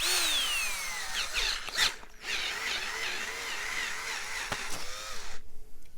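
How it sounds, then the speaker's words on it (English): Power drill whirs and strains with a bit stuck inside a shotgun during a rebuild, a continuous high mechanical whine with brief clicks and ratcheting catches, close and moderately loud, cutting off near the end. "We got a drill bit stuck inside the shotgun."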